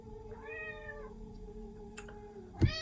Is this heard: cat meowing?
yes